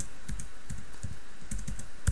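Rapid typing on a computer keyboard during a tutorial on the Facebook SDK for Unity, with irregular clusters of close, crisp key clicks and one louder keystroke near the end, no talking.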